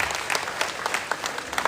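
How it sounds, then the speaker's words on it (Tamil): Audience clapping welcomes performers at a fire-walking cultural event in Singapore, a brisk burst of many hands with crisp individual claps standing out near the microphone. "பெரிய கைத்தட்டுடன் வி.எம். மகாலிங்கம், சீர்காழி சகோதரிகள்."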